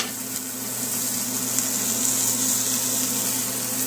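Hamburger patties searing on a hot pan at high heat, giving a loud, continuous hissing sizzle that holds steady throughout.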